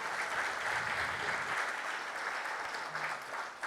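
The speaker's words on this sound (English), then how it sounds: "I have to do a round of applause there." Steady, full audience applause fills a fan-event hall during a Kevin Costner sports-storytelling panel at Fanatics Fest 2025, holding at an even level throughout.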